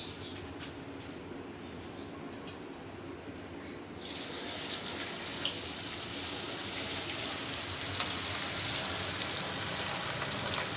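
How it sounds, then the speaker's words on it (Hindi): Okra hits hot oil for deep frying, and a bright, loud sizzle jumps up abruptly a few seconds in and keeps hissing steadily to the end after a quieter lead-in. "तो भिंडी को हम सबसे पहले करेंगे फ्राई।"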